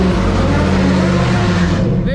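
A Ford Mustang's engine roars loud and close in a continuous, sustained drone while the car spins donuts, with no break in the sound.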